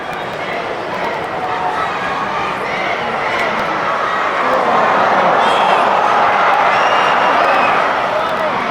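Broad crowd noise from 22,000 spectators at a Newcastle Women versus Portsmouth Women National League football match, a steady murmur that swells louder in the second half, with voices talking nearby.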